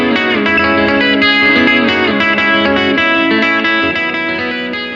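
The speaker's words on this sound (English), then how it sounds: "The reverb in that is a big, posh hall reverb. Sounds like a big kind of cathedral-y hall." Electric guitar solo played through a Boss GT-100 patch with a big hall reverb, sustained distorted notes with chorus and echo ringing continuously and loudly throughout, fading slightly at the end.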